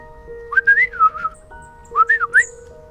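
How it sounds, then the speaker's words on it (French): A person whistles like a small songbird, giving two short, bright, warbling phrases separated by a pause over a faint steady hum. "se mit alors à siffler."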